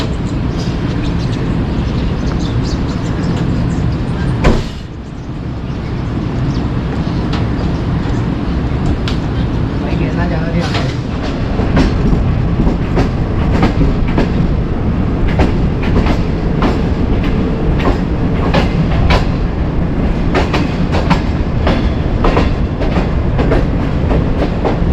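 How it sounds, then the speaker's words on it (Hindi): The Shalimar Express pulls out of Kotlappa railway station, loud and close, with a continuous rumble of wheels and rhythmic clickety-clack of carriages over rail joints, sharp clanks scattered throughout and a sudden bang early on. "2 मिनट स्टॉप करने के बाद शालीमार एक्सप्रेस रवाना हो रही है"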